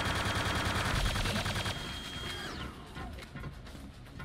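Gunfire in the video game Quake II, dense rapid shots and impacts at the start, thinning into scattered mechanical clatter as the din fades.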